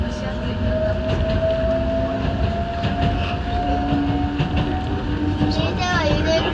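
The Enoden electric train rolls along its tracks by a typhoon-rough sea between Fujisawa, Enoshima and Kamakura, a continuous loud rumble with rail clatter and a faint rising tone, heard from aboard while people talk.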